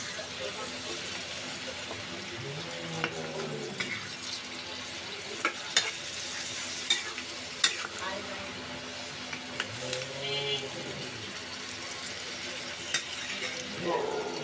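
Mutton stirred and frying in a pan, a moderate sizzle with intermittent scraping and clinks of a spoon against the metal, while someone speaks over it now and then.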